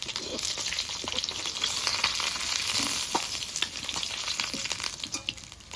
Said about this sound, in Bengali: মাছগুলো ভেজে নামিয়ে নিয়েছি এরপরে বাকি মাছগুলো এভাবে ভেজে নেবো